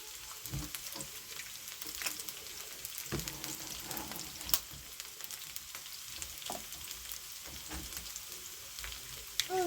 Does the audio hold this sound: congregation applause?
no